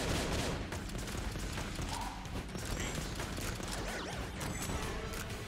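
Rapid gunfire from a weapon in the modded roguelike shooter Enter the Gungeon, dense bursts of shots and impacts layered over game music and effects, steady and loud throughout.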